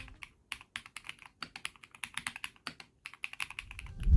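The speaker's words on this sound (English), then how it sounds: "Like every Keychron keyboard, this thing was built to sound amazing." A full-size 100% layout Keychron mechanical keyboard is typed on up close, giving rapid clacky keystrokes in uneven bursts with brief pauses and no speech.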